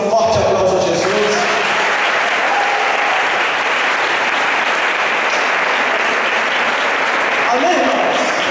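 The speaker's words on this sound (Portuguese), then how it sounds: "Dá um forte aplauso a Jesus." A church congregation at a missionary service claps in strong, sustained applause that fills the room from start to finish, with voices calling out faintly at the edges.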